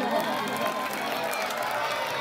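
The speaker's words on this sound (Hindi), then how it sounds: "जोरदार तालियां मर्जिया बानो के लिए।" Audience applause for a teacher at a school Children's Day prize giving in Kargil, a steady wash of clapping and crowd noise filling the short stretch without pause.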